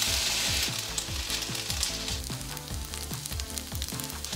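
Vegetables sizzle in a hot oiled pan, a bright crackling hiss that starts loud and settles, with rhythmic scraping clicks of stirring repeating throughout.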